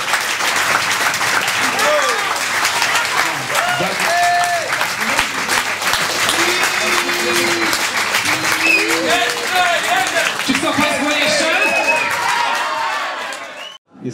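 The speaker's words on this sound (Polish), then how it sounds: "wielkie, wielkie brawa" A crowd at a vinyl record premiere in a guitar store breaks into sustained applause with cheers and whistles, loud and continuous before tapering off abruptly at the end, voices shouting within it.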